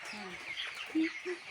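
Broiler chickens kept on a home farm cluck softly a few times close by, short quiet calls over a faint background, with people talking nearby.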